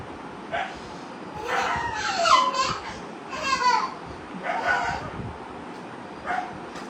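A dog barks in several sharp, moderately loud bursts, with whiny yelping tones between the barks and faint background noise in the pauses.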